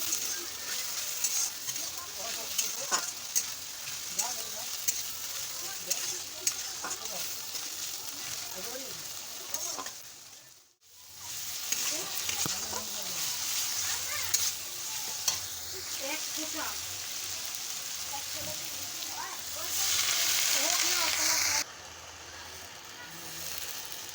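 Ground shrimp-head paste sautés and sizzles in a pan over a steady frying hiss, with stirring scrapes throughout, a brief drop near the middle, and a louder sizzle burst toward the end, with voices talking over it at times.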